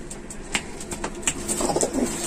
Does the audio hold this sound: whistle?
no